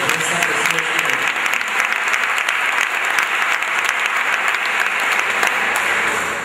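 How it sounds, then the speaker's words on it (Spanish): Sustained loud applause from a church congregation, a dense crowd of clapping hands filling the space steadily for several seconds with no talk over it. "Dale un fuerte aplauso a Dios en esta preciosa."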